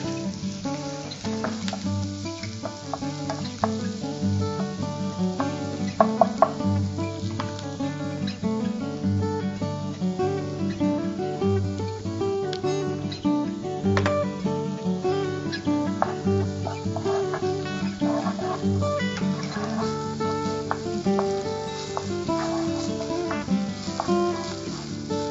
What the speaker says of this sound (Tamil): இஞ்சி பூண்டு பேஸ்ட் போட்டுடலாம்.